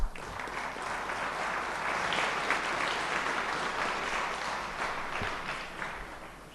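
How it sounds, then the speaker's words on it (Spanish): A large audience at a Latin American book presentation and lecture breaks into sustained applause. The clapping is dense and continuous, swelling quickly and holding steady for several seconds before tapering off near the end. "Un fuerte aplauso para cada uno de nosotros."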